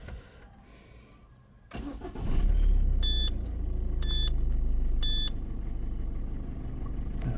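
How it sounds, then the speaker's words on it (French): A 1.4 or 1.6 HDi diesel car, suspected of a clogged particulate filter, cranks briefly and starts. It settles into a loud, steady idle, while three short electronic warning beeps sound about a second apart. "je vais démarrer la voiture."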